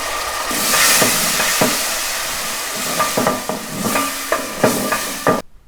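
Grated tomato and pepper paste sizzle loudly in hot oil in a pot, a steady bright hiss broken by repeated scraping stirs before stopping abruptly.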